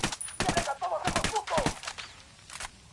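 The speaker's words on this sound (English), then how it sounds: "I'm opening fire on these shitheads." Video game gunfire rattles in repeated bursts of shots, mixed with voices and clatter, moderately loud throughout.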